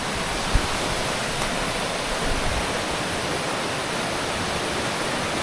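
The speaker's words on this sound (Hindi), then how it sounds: "पानी का फ्लो बहुत ज़्यादा है।" Strong river water near Dudhsagar waterfall rushes in a dense, steady roar, loud and continuous throughout with no talk.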